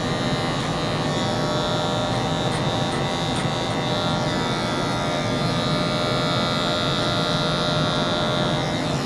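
A Wahl Magic Clip hair clipper buzzes steadily and continuously at a barber's chair while fading a haircut, a close, constant electric drone with no talking.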